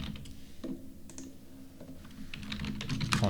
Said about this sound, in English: Let's type in heading.